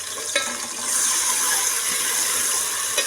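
Soft hiss and sizzle as a little water goes into tomatoes cooking with garlic-ginger paste in a pan, fairly close and steady for a few seconds.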